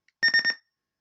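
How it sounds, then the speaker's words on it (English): A faulty G.T. Power engine sound system beeping during a failed calibration gives a rapid burst of four or five bright, clipped electronic beeps in quick succession, loud and close, then silence. "press it once, it keeps on going beep beep beep"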